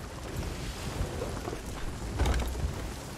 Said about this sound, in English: Maybe we got turned around in the storm.